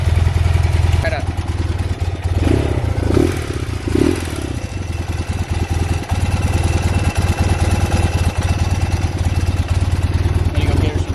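Close, steady idle of a 1989 BMW R100 GS Paris Dakar motorcycle engine after a cold start. The loud, even clatter runs throughout with voices over it.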